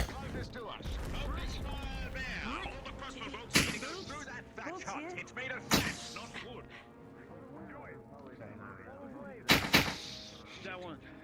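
Sharp gunshots and booming cannon blasts ring out in a VRChat battle roleplay, three heavy bangs spaced a few seconds apart amid constant overlapping shouting and talking voices.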